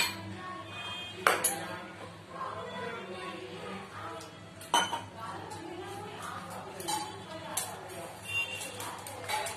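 A spoon clinks against a bowl while salt, coriander powder and red chilli powder are mixed in for kadhi, with a few sharper taps standing out over steady background noise and faint talk.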